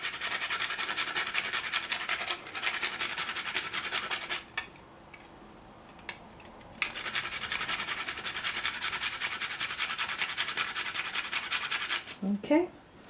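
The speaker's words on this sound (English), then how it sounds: "I prefer using the whole one, and then I'll just grate some in" Whole nutmeg rubbed against a grater in long steady raspy strokes, close and moderately loud, pausing briefly a couple of times, with a light clink near the end.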